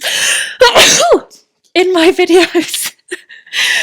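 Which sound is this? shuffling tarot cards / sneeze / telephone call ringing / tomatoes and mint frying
sneeze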